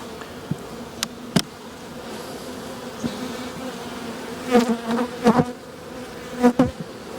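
Honey bees buzz around an overwintered nuc colony used to fix a queenless hive in South Georgia; a steady low hum with individual bees swelling loudly past the microphone several times, plus a few sharp taps.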